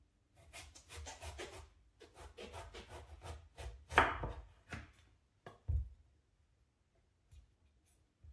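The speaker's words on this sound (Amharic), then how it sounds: "እንዳይጠቁሩባችሁ ቶሎ ቶሎ መክተፍ አለባችሁ።" A knife slices eggplant thinly on a board in quick, even chops, a steady series of close, crisp knocks that pause briefly before a few last louder strokes, with no talk.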